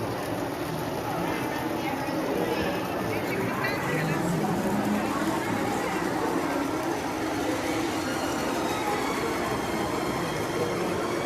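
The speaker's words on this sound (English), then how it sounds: "And there goes the train." A model train runs at a holiday train show, its rumbling, clattering wheels a continuous mid-level noise amid crowd murmur, with people talking over it.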